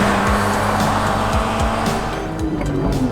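A 1996 BMW 328i Touring E36 with manual gearbox revving hard, its engine pitch sweeping up and down repeatedly in loud, close, rapid bursts.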